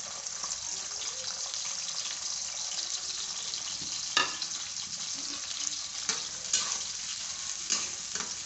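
Steady hissing sizzle of onion, garlic and ginger frying in oil, with occasional scrapes and knocks of stirring, close and constant, no voices.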